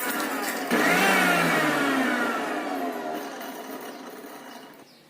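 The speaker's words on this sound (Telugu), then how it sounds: "పచ్చాగా మిక్సీ చేయాలి పోపుని" A mixer grinder coarsely grinds fried tempering spices for a regupandu chutney, its motor surging up loudly and then slowly winding down to a fade.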